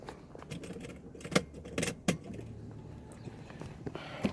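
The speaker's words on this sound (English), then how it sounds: "turn in the ignition key on to position" Keys jangle and clink in the ignition of a Mercedes ML350 W164 as the key is turned, giving a few sharp metallic clicks over a quiet cabin background.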